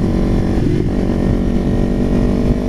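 Sport motorcycle engine, a Ninja 300 or YZF-R15, running steady and loud throughout with a sustained droning rumble, on and off the throttle during riding, no speech.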